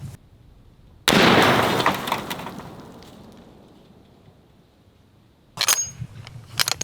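A rifle shot striking a cheap TEMU Level IV body armor plate: a single sharp, loud crack and impact that decays over a few seconds, then a further burst of clattering noise near the end.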